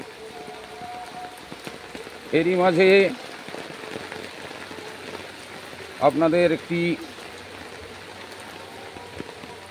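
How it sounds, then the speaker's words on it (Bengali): Rain falls steadily on a rural pond and trees during a monsoon day, a soft continuous patter under two short spoken phrases from a man. "তবুও এই বৃষ্টি আমাদের কাছে স্বাগত"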